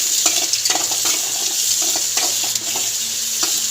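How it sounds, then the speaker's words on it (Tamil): Capsicum sautéing in a pan for chutney, a steady bright sizzle with repeated close stirring scrapes and clinks, no voices. "நல்லா பச்சை வாடை போகிற அளவுக்கு நல்லா வதக்கிக்கோங்க"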